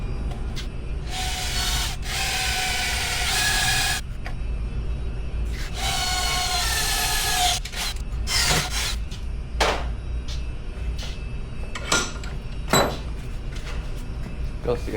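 Holes are cut and burned into a metal plate for custom tank brackets on a CJ5, two sustained hissing, buzzing bursts of a few seconds each, followed by sharp scattered clanks and knocks.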